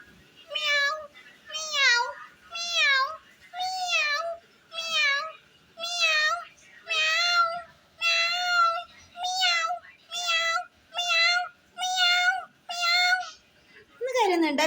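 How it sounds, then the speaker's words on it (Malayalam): A cat meows again and again, about thirteen drawn-out, fairly close cries in a steady rhythm, each separated by a short pause. "ആ പൂച്ച കരുന്നുണ്ടല്ലോ ഇപ്പോ."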